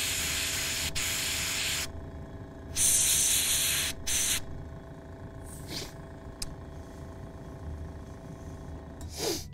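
An airbrush sprays shading paint onto the cowl of a painted miniature, loud hissing bursts switching on and off with brief pauses and a steady background hum between them.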